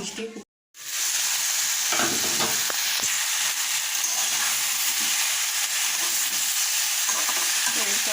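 Eggplant and cumin fry in a pan with a loud, continuous sizzle. It starts after a brief cut-out and carries faint stirring knocks throughout, with no talking.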